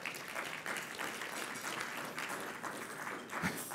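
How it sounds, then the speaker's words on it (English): Steady applause from a conference audience at a LIFT 2018 talk, a dense patter of many hands clapping at an even level throughout, with no speech over it. "I appreciate the applause."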